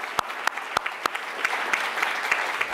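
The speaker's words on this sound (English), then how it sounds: "let's give her a round of applause" An audience at a California statewide hearing on alternative discipline policies applauds, a moderate wash of clapping with a few distinct sharp claps near the start, steady and moderately close.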